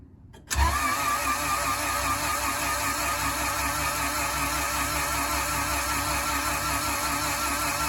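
A fully built, sleeved B18 engine fires up for the first time in a car pushed outside, catching quickly after a brief crank and then settling into a steady, loud, even idle that runs on alone.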